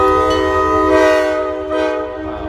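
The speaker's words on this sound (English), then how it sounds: "Oh, that's a train. It's gonna pass by now." A train horn blares loudly and steadily over the rumble of a passing train, its tone wavering slightly before trailing off.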